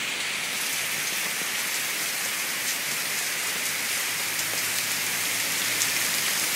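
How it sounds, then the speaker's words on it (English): Heavy rain pours steadily during a flash flood storm in New Cumberland, Pennsylvania, a dense, constant hiss of drops hitting surfaces close by with no talk. "yep, it's coming down pretty good. Rain, rain, rain."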